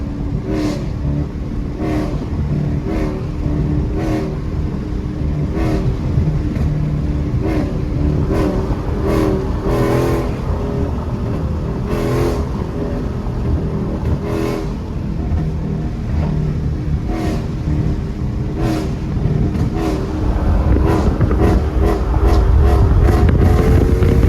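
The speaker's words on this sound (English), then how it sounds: "Let me downshift right quick" A car with JBA catalyst mid-pipes and a muffler delete downshifting and revving in traffic, a loud continuous engine drone rising and falling with throttle, heard from inside the car with no talking.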